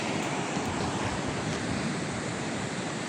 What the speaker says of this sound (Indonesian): kondisi ombak, gulungan ombak di pasir pinggir-pinggir itu